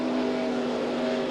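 NASCAR race cars roar down the front straight, a loud, steady, droning engine note with a strong tonal whine that carries throughout.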